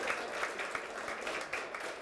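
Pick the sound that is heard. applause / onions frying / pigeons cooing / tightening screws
applause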